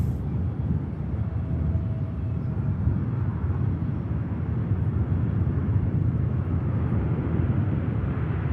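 An airliner rolls past at Manchester Airport with a steady, loud, low engine rumble that holds close by for the whole stretch, with no talking.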